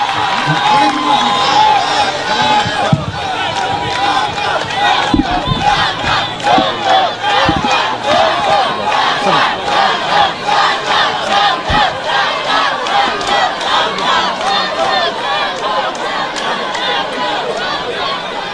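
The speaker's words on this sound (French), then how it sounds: "applaudissez encore" A large crowd at a Senegalese leader's historic speech in Gambia cheers and shouts continuously, a dense roar of voices with scattered claps, loud and sustained throughout.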